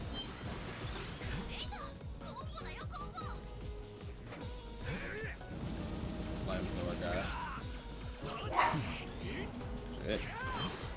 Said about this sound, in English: Dog in the hallway, losing his shit